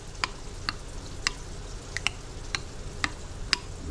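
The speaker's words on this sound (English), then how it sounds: "Get them all mixed up in this bowl here" Roe shad eggs mixed in a bowl with a utensil, a steady series of sharp, regular clicks and taps about every half second over a soft background, close and fairly quiet.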